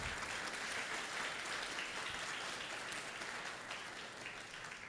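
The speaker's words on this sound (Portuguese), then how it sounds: "Uma salva de palmas" Sustained applause from an audience at an academic event on high-school scientific initiation at a university, a dense, steady wash of many hands clapping without a break, fairly distant and even in level throughout.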